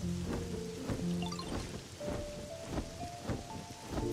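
Rain falling in a Pokemon video game, a steady patter of drops with rumbling thunder-like swells under tonal game music, no voices.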